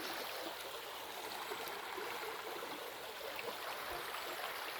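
River water flows steadily with a soft, continuous rushing hiss, fairly faint and unbroken, with no voices.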